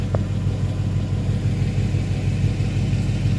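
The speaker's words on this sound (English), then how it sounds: "now the car's running" A 2012 Ford Mustang GT Boss 302 V8 running after a radiator replacement, a steady low engine rumble close by with no voices.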